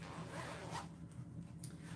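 A zipper is pulled along an oversized hook storage case in two quick, faint rasping strokes, close by and without talk.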